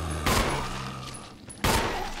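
Two loud gunshots ring out in the Resident Evil HD remake as a zombie is shot in the Spencer mansion, each a sharp blast followed by a decaying echo, spaced over a second apart.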